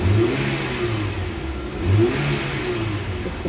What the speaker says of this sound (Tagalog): Ibang-iba na yung tunog guys ng engine.